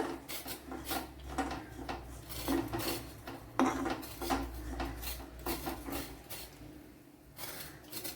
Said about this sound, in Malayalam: അപ്പോൾ നല്ലതുപോലെ ഒന്ന് ഇളക്കി കൊടുക്കുക.